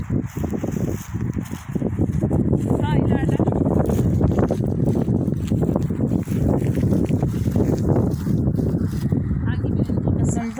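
Wind gusting outdoors in a countryside setting, a steady rumbling buffet across the microphone, with a person talking over it.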